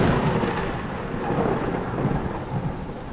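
Heavy rain pours steadily over a village while thunder rumbles continuously beneath it, loud and close, with no voices.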